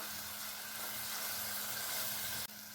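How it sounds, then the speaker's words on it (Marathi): Chopped onion and ginger-garlic paste sauté in hot oil, producing a steady, close hiss of sizzling that continues without a break and drops off abruptly near the end. "ही पेस्ट पण एक मिनिटभर चांगली परतून घ्यायची आहे"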